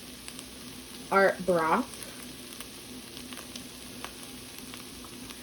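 Borscht ingredients sizzle steadily in a pot, a soft continuous frying hiss that runs through the whole stretch, with a brief spoken remark near the start.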